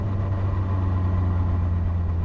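A Caterham's Duratec engine idles steadily up close, a low, even rumble with a persistent vibrating hum and no change in revs, no voices over it.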